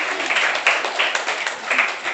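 A school audience at a lycée debate claps for the jury members, a short burst of close, dense applause with a slightly pulsing rhythm.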